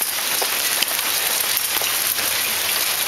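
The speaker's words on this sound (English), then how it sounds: "it's hailing in Nevada" Hail falling outdoors in Nevada near Lake Tahoe, a dense, continuous patter of pellets striking surfaces close by, with a few sharper individual hits.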